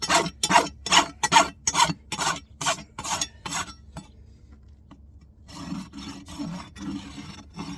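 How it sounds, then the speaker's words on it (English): GE clinchers bending over horseshoe nails on a large draft horse's hoof, nine sharp rhythmic rasping strokes in quick succession, a pause, then softer repeated scraping, close and with no talk. "This is the clinching part. I'm using GE clinchers."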